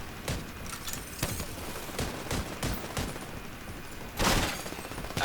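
Sniper and other gunfire in an arena-mode video game battle, sharp cracks and bursts spread through a noisy mix with one louder blast near the end, fairly dense and continuous, with no talk.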